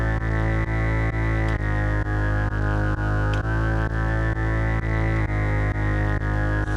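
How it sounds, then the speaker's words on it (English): A synthesizer bass with effects plays on its own, a loud, steady, distorted and harmonically rich tone pulsing in a regular rhythm of repeated notes, with light echo and reverb. "Now this is what this bass sounds like."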